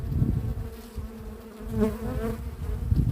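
Honeybees buzz at an open hive during an inspection, a close, dense droning hum that swells briefly midway and holds steady throughout.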